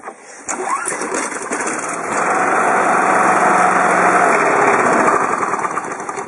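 An ETrac overhead valve engine cranks, catches and starts, then settles into a loud, steady running drone close by, with no voices.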